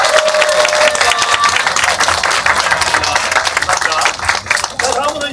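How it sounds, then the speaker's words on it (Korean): Theater audience at a curtain call in a small art hall claps loudly, rapid overlapping hands close to the mic, with occasional cheers and a voice talking over the applause. "분들께도 큰 박수 부탁드리겠습니다."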